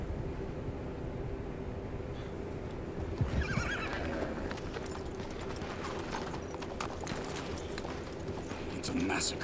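A horse in the video game Red Dead Redemption 2 whinnies loudly while hooves clip-clop at a gallop, with rumbling background noise and a busy, action-filled mix.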